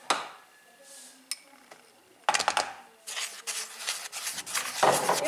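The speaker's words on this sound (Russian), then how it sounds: "И вот так хорошо перемешиваем." Chocolate cupcake batter with cocoa is mixed in a bowl by hand, making scraping, clinking and rubbing strokes at close range that come in bursts and grow busier toward the end, with no talk.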